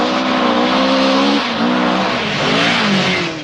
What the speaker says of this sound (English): Alén really makes the Stratos fly